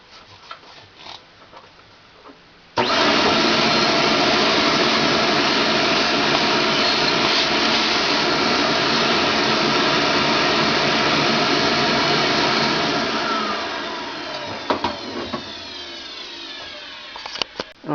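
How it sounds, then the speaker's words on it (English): A vacuum cleaner sucks metal chips off a milled part of a Leupold Zero Point sight held in a vise. Quiet shop noise gives way to a loud, steady roar lasting about ten seconds, which then fades into clattering handling sounds. "we're going to clean off the chips with a vacuum"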